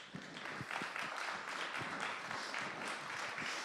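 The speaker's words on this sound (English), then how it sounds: "We can applause again, Christophe" An audience at a closing plenary session applauds a speaker with dense, even clapping at a moderate distance, sustained without a pause for the whole stretch.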